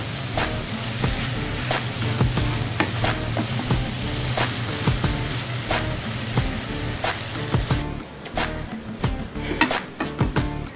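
Potato and egg bhujia stirred in a pan, a steady sizzle under repeated sharp clicks and scrapes of a utensil against the metal, close and fairly loud throughout.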